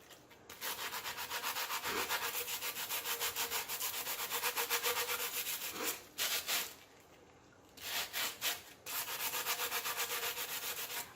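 Wet sanding by hand on an epoxy-coated stainless steel tumbler in warm soapy water, rhythmic back-and-forth rubbing strokes, close and fairly quiet, pausing briefly twice before resuming.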